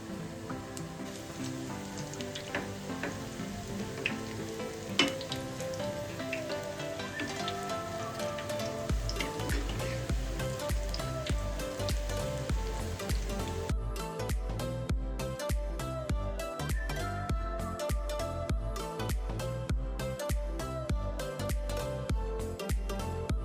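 Methi bhajiya, fenugreek fritters, sizzle and crackle steadily in hot oil over a medium flame, a close, rain-like patter that carries throughout while rhythmic background music joins partway through.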